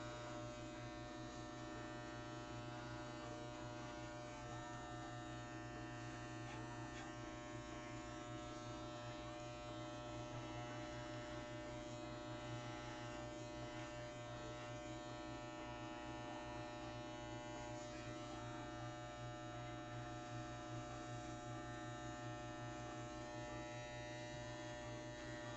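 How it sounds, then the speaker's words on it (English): An electric shaver drones steadily and loudly while a pet is clipped, a constant tonal buzz with mains-like hum that runs unbroken the whole time. "Shaved the wrong thing."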